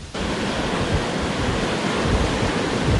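Waves of Manila Bay wash steadily onto the shore along Roxas Boulevard, a loud continuous roar of surf with no pauses and no voices.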